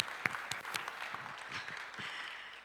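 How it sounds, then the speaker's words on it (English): An audience at an autism conference applauds, a steady patter of many hands clapping, moderately distant and fairly quiet, holding evenly for a few seconds. "on vous applaudit encore une fois"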